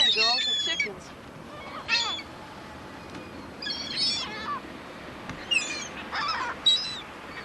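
Poultry calls up close, loud squawks and honking cries in separate bursts spread across the clip, over low background rumble, with a person talking nearby.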